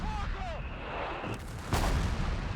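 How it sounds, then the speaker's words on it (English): Rapid Semovente artillery barrage in Company of Heroes 3, a dense run of booming shell blasts and rumbling impacts with a sharper, louder burst near the end, set against game battle noise. "And it's pretty fast barrage"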